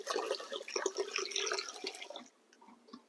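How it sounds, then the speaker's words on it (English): Fresh tap water rushes steadily into a container in a garden bulb-planting setting for about two seconds, then cuts off, leaving a few faint drips and quiet. "I'm just going to start by filling this up with some fresh water."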